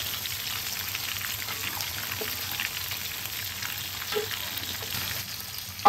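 Bekasam fish, fermented ikan lampam Jawa, frying in hot oil while oil is spooned over its body, a steady crackling sizzle throughout at moderate level, with occasional small pops and a louder clatter at the very end.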